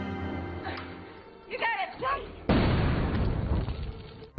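A movie explosion blasts open a cell door. Voices come first, then a sudden loud, sustained rumbling burst of the blast fills the rest of the clip.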